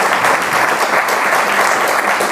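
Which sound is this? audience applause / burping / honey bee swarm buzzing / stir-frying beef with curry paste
audience applause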